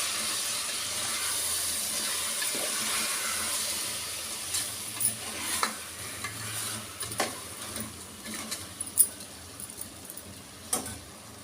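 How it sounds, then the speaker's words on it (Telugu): Rice being gently stirred while frying in a pot, a soft steady sizzle and hiss throughout with scattered scraping clicks of the spoon growing more frequent toward the end, no talking. "దీంట్లో మెల్లిగా కలబెట్టుకుందాం, ఎందుకంటే రైస్ విరిగిపోతుంది."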